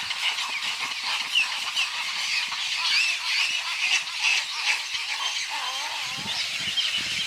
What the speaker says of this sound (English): those babies chirping at their parents, wanting to be fed